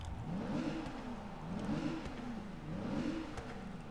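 A Rolls-Royce Wraith engine in Forza Motorsport 6 revving up and down in three repeated swells, rising and falling pitch, fairly quiet and without speech.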